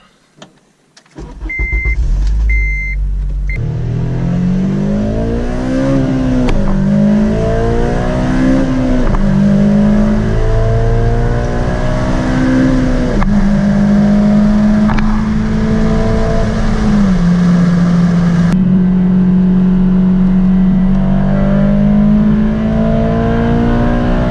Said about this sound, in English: if I did everything right, the car should start